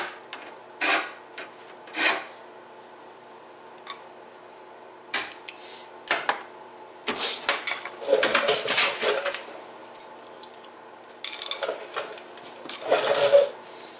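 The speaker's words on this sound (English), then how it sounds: "this is the first time I've ever recorded sharpening the whole blade" Hand filing the teeth of a Woodmizer LT15 sawmill band blade, heard as bursts of harsh metallic rasping strokes separated by short pauses, growing into longer, denser runs of filing later on.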